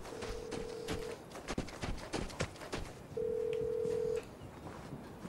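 A telephone rings in the video game Vigor on PS4, sounding as two steady electronic tones, one early and one later, over a busy background of game noise and clicks.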